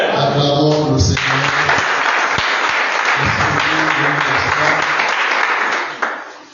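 A church congregation claps steadily for several seconds, the applause filling the room after a voice briefly speaks, then tapering off at the end.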